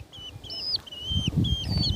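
Chickens cluck and call in repeated short bursts on a rural farm in Thailand, sharp calls rising over low rustling and faint background noise.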